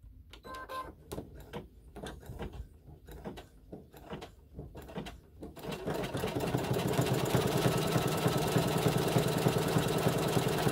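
Home sewing machine stitching a line of gold thread on a quilt block sign, first in short stop-start bursts of needle clatter, then a steady, loud continuous run of rapid stitching with no talking.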